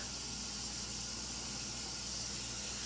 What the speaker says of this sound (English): You're going to turn on the cool water.